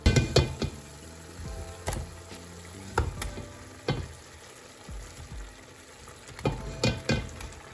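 Potato being stirred and spread into tomato and spices frying in oil in a pot for chicken biryani, a steady sizzle broken by repeated loud scrapes and knocks of a spoon against the pot.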